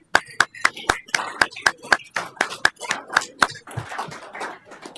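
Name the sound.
audience applause for the Person of the Year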